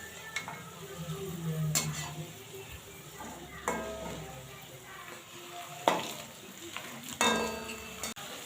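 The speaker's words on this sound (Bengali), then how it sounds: "এবার পকোড়াগুলো ভালো করে লাল করে ভেজে নেব।" Vegetable pakoras deep-fry in hot oil over a high gas flame, a steady soft sizzle broken by sharp clinks and scrapes of a utensil stirring against the pan.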